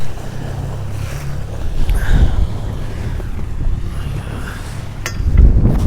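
A sailboat under way at sea, off Lanzarote, with a steady roar of wind noise and sloshing waves, low rumbling water and hull noise rising in surges near the middle and end, no talk.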